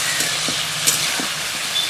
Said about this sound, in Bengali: আলুটাকে লাল করে ভেজে নেব।